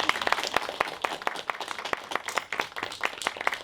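A round of clapping from an audience at a college reading event, honoring student readers: brisk, irregular claps close by, fairly moderate in level and continuing steadily throughout.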